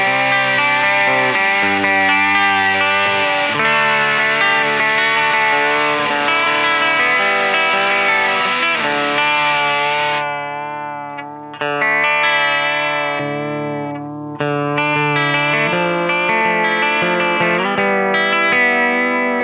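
Electric guitar chords played through a crackling lo-fi cassette-style pedal with vibrato, warbling and distorted, loud and alone, with short gaps between phrases.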